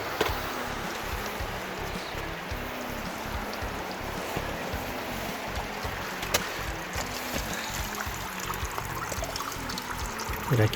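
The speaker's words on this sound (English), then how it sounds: "but I can hear the dripping" Water from a leak trickles and pours steadily outdoors, a continuous wash of splashing under a low, rhythmic thumping.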